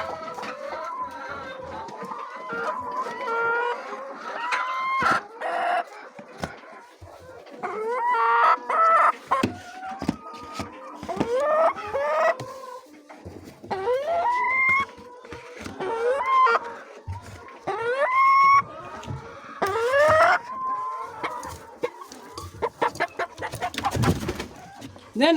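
Laying hens in a poultry farm cluck and cackle almost continuously, close and fairly loud, with repeated rising squawks, occasional rustling and clattering of handling, and a person speaking intermittently beneath the birds.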